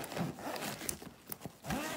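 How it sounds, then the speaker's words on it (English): A zipper closes on an insulated double-decker casserole carrier bag in a couple of quick, close scraping pulls, with no talking. "And then I'm going to just zip this thing up."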